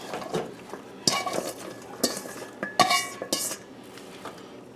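A utensil stirring sliced peppers and onions in a pan for pepper steak, giving a few sharp clinks and scrapes against the metal at irregular moments over a quiet background.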